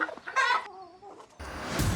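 A rooster clucks and squawks up close in short agitated bursts, followed by a loud rustling scuffle, with no one speaking.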